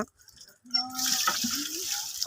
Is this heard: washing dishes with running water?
yes